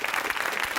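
An audience breaks into brief, loud applause for the winner of a debate, a dense burst of many hands clapping at once.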